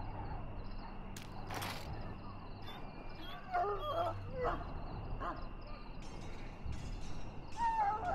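A sick hound in Dragon Age: Origins, poisoned by darkspawn blood, lets out a few soft, high whimpers and whines over a steady background hum, moderately quiet.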